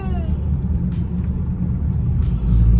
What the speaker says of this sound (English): Second-gen dually putting in the work, baby.